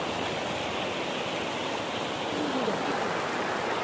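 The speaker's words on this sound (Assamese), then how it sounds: "এইটো আছিল নদীটো" A river flows at a picnic spot, producing a dense, steady rushing wash of water that stays constant and fairly close throughout.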